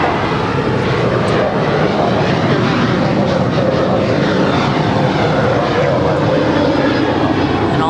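A Boeing 737-700 airliner at LAX roars with loud broadband engine noise that holds steady throughout, with voices talking over it.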